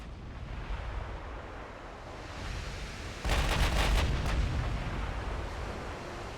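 A 16-inch battleship gun salvo in the naval strategy game Ultimate Admiral: Dreadnoughts, where a sudden heavy boom breaks over steady wind-like rumble, followed by a few rapid cracking reports and a long fading roar.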